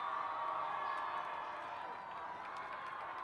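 Steady roar of a high school football stadium crowd during a late-game punt, cheering and clapping in a continuous wash, with a commentator talking over it.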